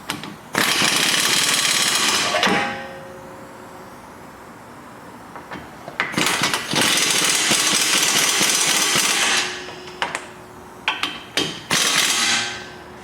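Impact wrench driving 17mm brake caliper bracket bolts on a 2000-2007 Toyota Highlander, loud rattling hammering bursts of a couple of seconds each, separated by quieter pauses and clanks.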